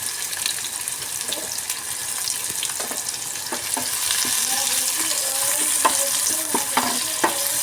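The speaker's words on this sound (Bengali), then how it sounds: "পেঁয়াজটাকে আমি একটু লাল লাল করে ভেজে নেব।" Chopped onion sizzles steadily in a hot kadai for moong dal bhuna, a broad crackling hiss with scattered clicks and scrapes of stirring, close and fairly loud throughout with no talking.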